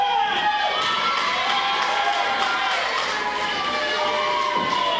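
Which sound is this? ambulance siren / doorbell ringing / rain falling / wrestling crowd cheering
wrestling crowd cheering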